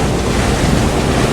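Strong gusting wind roars across the microphone aboard a sailboat on a whitecapping bay, with waves washing and slapping the hull, loud and constant throughout.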